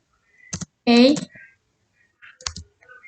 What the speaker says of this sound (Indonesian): Langsung saja kita ketikkan crypto